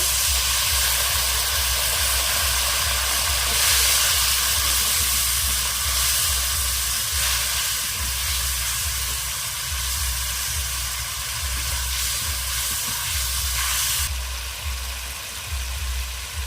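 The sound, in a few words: spices sizzling while being fried with water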